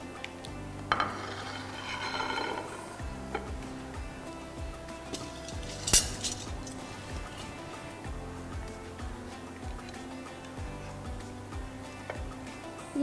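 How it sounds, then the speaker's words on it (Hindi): Utensils clink and scrape while fruit cocktail is stirred into doodh dulari, a milky dessert, with light irregular taps and a brighter clatter midway, close and fairly soft, no voices. "Mix it well."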